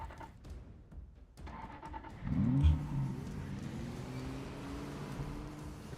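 Car engine in the Project Zomboid video game straining to start, a low labored groan that swells around the midpoint and then settles into a steady rough drone.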